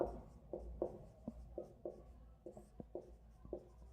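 A pen writing on paper during a Class 8 maths lesson, a faint, close scratching made of short strokes and taps in an irregular rhythm, with no voice over it.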